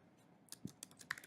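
A few light, quick keystrokes tap on a computer keyboard, faint and close, in brief irregular clicks.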